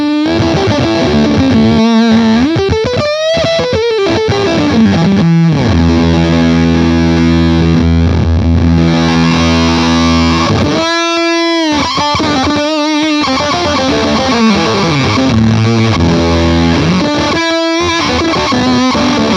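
Electric guitar runs through an Octa-Tron pedal with its feed switch on, making loud, sustained distorted feedback tones that swell, bend and shift pitch continuously with brief cut-outs, alone without any talking.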